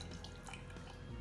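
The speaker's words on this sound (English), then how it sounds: "Some water to my coffee and sugar," Water pours into a mug of coffee with sugar in a home kitchen, a brief, soft, continuous trickle with no talk.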